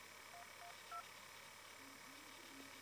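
Keypad tones from an iPhone 4 dialing the emergency number 112, three short beeps in quick succession over faint background hiss, fairly quiet and without talk.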